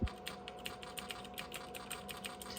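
Rapid, fairly even typing on the keyboard of a Nan Tan 8100 386 laptop with a faulty keyboard controller, a steady run of light close clicks with a faint constant hum underneath.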